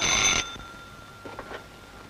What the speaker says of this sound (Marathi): पुन्हा फोन आला